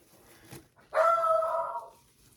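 A dog indoors, heard from a floor below, gives one loud, drawn-out bark or yelp of about a second after a faint earlier sound, with no talking over it.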